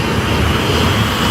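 A jet airliner engine at maximum thrust, the remaining engine after the other fails during a fuel emergency, makes a loud, steady, close broadband roar that holds even and unbroken throughout, with no voices.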